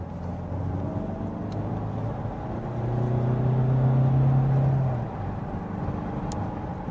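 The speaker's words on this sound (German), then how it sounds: "Das Fahrzeug ermöglicht starke Beschleunigungen." A DS 5 hybrid diesel car with electric motor assist accelerates, a steady engine drone rising into a louder, strained surge for a couple of seconds before settling back to a smooth cruise.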